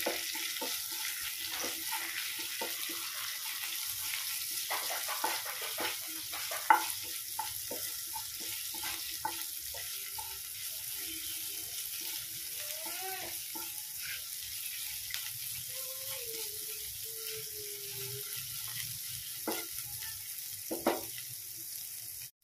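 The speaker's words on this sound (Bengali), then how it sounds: "অল্প আদা পেস্ট দিয়ে আমি কয়েক সেকেন্ড ভালোভাবে ভেজে নিচ্ছি" A soft, steady sizzle of ginger paste and mustard seeds frying in a pan, with occasional clicks and scrapes of stirring; fairly quiet and without voices.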